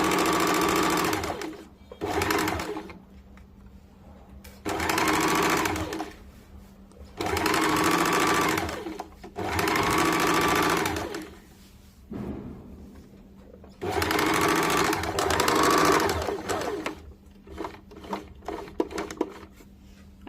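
A sewing machine runs a double seam along a churidar, several bursts of steady whirring stitching separated by short pauses, close and clear, with a few small clicks near the end.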